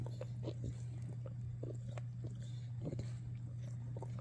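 An English Bulldog chews and gnaws a chew toy close up, irregular wet bites and crunches repeating over a steady low hum, no one speaking.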